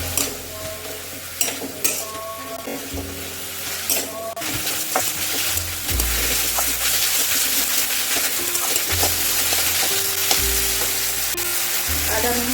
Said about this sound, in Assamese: আদা নহৰুখিনি ভজা হৈ গ'ল